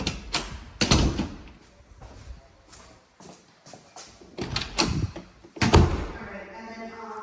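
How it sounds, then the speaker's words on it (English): Self-closing door between house and garage swinging shut during a home inspection, giving several solid thuds and latch knocks at close range, mixed with footsteps and people talking. "in this situation, we're checking these doors to make sure that they shut."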